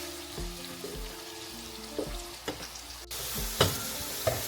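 Onions frying in a pan for mutton biryani give a steady, close sizzle with repeated stirring scrapes and clinks.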